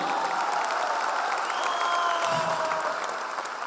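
Loud, sustained applause from a seated audience at a motivational business gathering, a dense steady wash of clapping with a few cheers on top that fades slightly toward the end.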